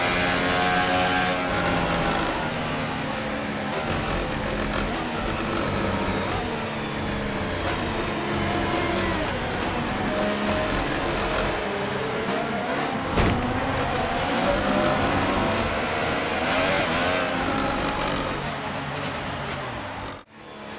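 Race cars in the F1 2018 video game, running as a group behind the safety car at the USA Grand Prix, give a steady, loud engine drone with layered revving tones that continue without a break for about twenty seconds.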